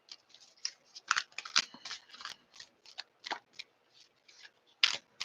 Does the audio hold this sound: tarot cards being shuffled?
yes